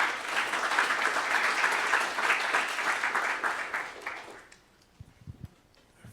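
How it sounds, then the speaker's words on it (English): Conference audience at a product growth event applauds warmly for about four seconds, then the clapping dies away into a quiet room with a few soft knocks and movements. "we can give a round of applause for Honest as well"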